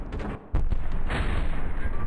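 A tank cannon fires in a video game with a sudden heavy boom that rolls into a sustained rumbling roar after a short quiet lead-in.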